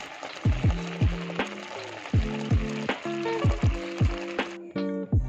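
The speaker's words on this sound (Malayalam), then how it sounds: "നന്നായിട്ടൊന്ന് ഇളക്കി കൊടുക്കുക" Jaggery and rice flour mixture stirred in a pan, a spoon scraping in a steady rhythm with repeated knocks against the rim, over a soft constant sizzle, close and alone.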